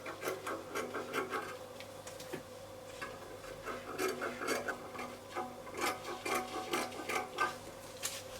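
Scissors snipping through dress fabric near the neckline facing of a shirt-style bubu dress, a run of close, dry rasping cuts in an irregular rhythm, with no talking.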